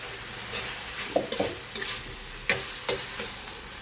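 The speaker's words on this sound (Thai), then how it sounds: "คั่วหมูให้สุกค่ะ" Minced pork being stir-fried in a pan for a stink bean and shrimp paste dish, a soft steady sizzle broken by several sharp scraping strokes of a spatula, close and with no speech.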